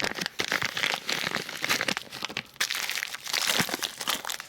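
Two plastic bags being handled and crinkled while wrapping old Harley parts, a loud, close, continuous rustling and crunching with sharp crackles and no talk.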